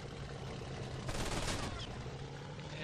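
Aircraft machine guns fire in a close-range dogfight in the flight combat game IL-2 1946, a dense sustained rattle of rapid shots that swells loudly in the middle of the burst.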